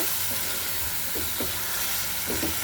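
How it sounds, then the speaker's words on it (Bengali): Spice paste with tomato for salted hilsa being stirred and fried in a pan, with a loud, continuous sizzle and a few soft, intermittent spatula scrapes beneath it. "ভালোভাবে সুন্দর করে এগুলো নেড়ে চেড়ে আমি এখন কষিয়ে নেব"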